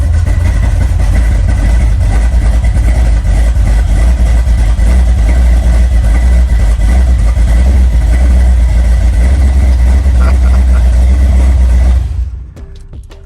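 A 1987 Oldsmobile Cutlass engine runs at a loud, steady idle close by, with a constant low rumble. It cuts off abruptly near the end.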